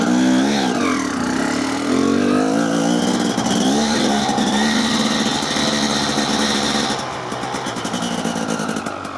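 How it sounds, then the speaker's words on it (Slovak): A car engine is pushed to full throttle up a hill, with loud revving whose pitch climbs and wavers before easing to a lower, rougher drone in the last couple of seconds. "dnes by som chcel konečne začať používať plný plyn v kopcoch"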